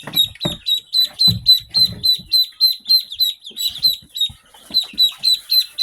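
Black Swedish ducklings peeping inside a brooder, a rapid, continuous chorus of high, shrill cheeps repeating in quick rhythm, with a few low thumps and shuffles underneath.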